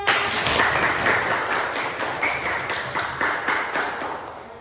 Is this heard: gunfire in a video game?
no